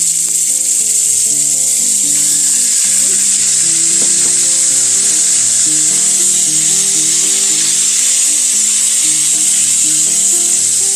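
Cubes of beef, cut to about one and a half inches, searing in a skillet after pancetta has been removed. A loud, continuous close sizzle, with faint music underneath.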